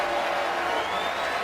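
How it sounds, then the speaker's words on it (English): Crowd cheering fills a college basketball arena as Duke visits Virginia Tech, a steady, dense roar with no breaks, loud and close. "Crowd cheers as Robinson returns."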